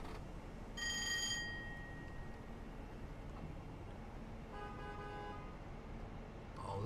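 A train horn on a CPRR HST express in Train Simulator 2018 sounds in two separate blasts, a short one early and another a few seconds later, over a steady low rolling rumble.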